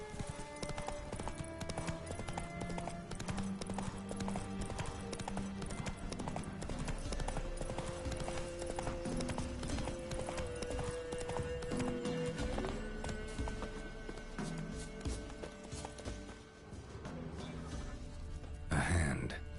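Hooves of the horse Roach trot steadily in The Witcher 3, a continuous rhythmic clip-clop over ambient game sound and music, with a brief neigh or snort, ending in a louder burst.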